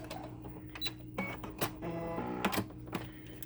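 A home sewing machine back-stitches through soft minky baby-blanket fabric in a few short, stuttering mechanical bursts with brief pauses between them.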